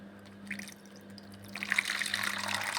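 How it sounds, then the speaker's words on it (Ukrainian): Water poured into a bowl of salt, pepper and garlic marinade, a soft splash early then a steady close trickle and gurgle over the last second and a half over a low background hum, with no talk. "Все раз ми заливаємо це водою."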